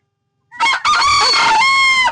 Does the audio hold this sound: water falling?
no